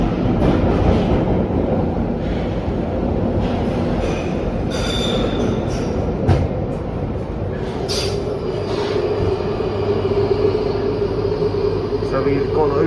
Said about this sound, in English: So we've gone over the scissors crossover and into the, don't know what numbered platform this is